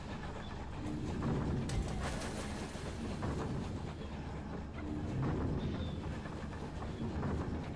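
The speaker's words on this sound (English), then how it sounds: "We're on a train, chat." Train ride in the video game Night in the Woods: a continuous low rumble and clatter of rolling rail cars, steady and moderately loud, with faint rhythmic rattles and no talk.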